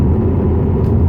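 A Ford Mustang 3.7L V6 in sport mode gives a loud, close, steady low engine rumble and drone, heard alone for about a second.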